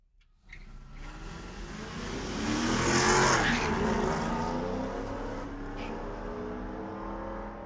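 A 1999 Camaro and a 1983 Chevy launch side by side at a Friday night street-legal drag race at Mission Raceway Park. The engines roar up to a loud peak as they accelerate hard, then hold a steady, receding drone.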